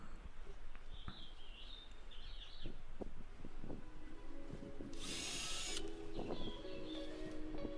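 A power drill drives wood screws into pallet wood trim on a garden fence, sounding in short whirring bursts among light taps and handling knocks, with birds chirping faintly in the background.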